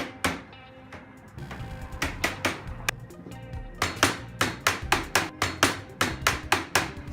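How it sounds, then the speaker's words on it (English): A rubber mallet drives a panel piece into place while a cassette toilet is fitted in a truck camper, heard as a steady series of sharp, close knocks that speed into a quick rhythmic run of blows. "we're going to pound it in with the mallet and it should hold the panel"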